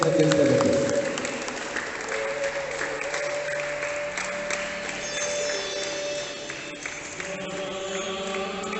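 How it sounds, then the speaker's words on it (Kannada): Audience clapping at an opening lamp-lighting ceremony for a cricket cup, a loud burst of applause at the start that settles into steady sustained clapping, with a voice talking over it. "ದಯವಿಟ್ಟು ಎಲ್ಲರೂ ಚಪ್ಪಾಳೆ ಮುಖಾಂತರ ಅವ್ರಿಗೆ ಪ್ರೋತ್ಸಾಹಿಸಬೇಕಂತ ಕೇಳ್ಕೊಬೇಕು"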